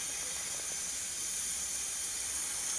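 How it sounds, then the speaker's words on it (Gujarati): A pot of Gujarati dal and rice water at a rolling boil gives off a steady, even steam hiss with faint bubbling beneath it, continuous and unbroken throughout. "પછી આપણે એને ઘડીક ઉકળવા દેવું"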